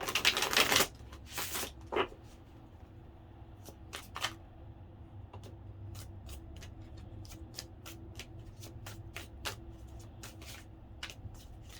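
Tarot cards are riffled in a quick, loud shuffle, followed by a series of soft, scattered clicks and taps as the cards are handled in a quiet room.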